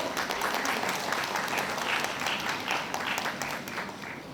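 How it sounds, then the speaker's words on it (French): Audience applause at a celebration of a woman's 100th birthday, a steady dense wash of many hands clapping at moderate distance, holding evenly throughout. "Alors, un applaudissement s'il vous plaît."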